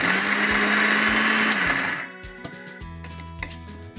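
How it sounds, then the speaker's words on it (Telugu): A mixer grinder blending coconut chutney runs at a loud, steady whir for about two seconds, then stops, leaving lid rattles and clinks. "కొంచెం నీళ్ళు వేసి పచ్చడిని మిక్సీ పట్టుకోవాలి"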